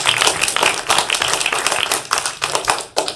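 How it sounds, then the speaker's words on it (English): An audience at a live city council meeting claps loudly and unevenly for a participant, with dense overlapping hand claps sustained throughout. "Everybody clap for Ty."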